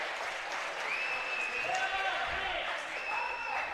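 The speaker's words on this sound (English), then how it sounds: "There's a lot more clapping going on than usual." Crowd clapping in the stands at a high school girls' varsity basketball game, steady broad applause with a commentator talking over it and a few squeaky tones above.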